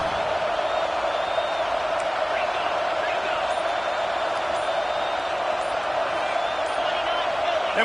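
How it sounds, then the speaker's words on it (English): A stadium crowd in a football video game gives a steady, loud, rocking roar that holds evenly from start to finish, with no clear pauses. "with this place rocking, the crowd forces a false start"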